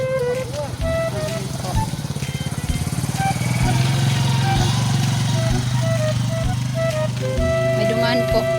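A motorcycle drones past on a rural grassy road, its engine rising to a steady close buzz and then holding, with people talking and other noises mixed in throughout.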